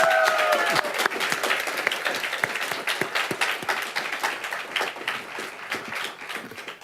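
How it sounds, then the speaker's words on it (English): An audience at a Legal Outreach benefit gala applauds in honour of John MacMurray: a steady, full round of clapping from a large crowd, loud and sustained for about seven seconds, with a brief voice at the very start. "No John MacMurray, but he deserves a round of applause anyway."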